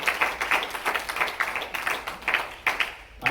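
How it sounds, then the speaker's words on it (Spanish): Applause from a church congregation, a thin scatter of hand claps with uneven rhythm, moderately close and fairly soft. "Una vez más, dense un fuerte aplauso a ustedes que están aquí presentes."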